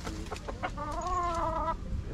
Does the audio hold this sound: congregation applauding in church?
no